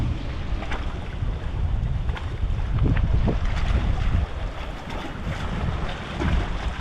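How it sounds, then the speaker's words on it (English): Choppy river water churning at the foot of a hiking trail near Otter Creek, a steady rushing wash buffeted by gusts of wind noise across the microphone, with no voices. "River is pretty choppy."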